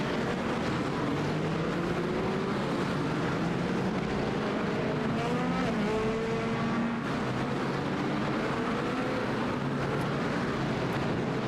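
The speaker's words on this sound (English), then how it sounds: "And Jared, will they take a full lap behind the safety car and then take a formation lap" Race car engines drone continuously in iRacing as cars lap behind the safety car at Sebring, several overlapping engine tones rising and falling steadily, fairly loud and with no talk over them.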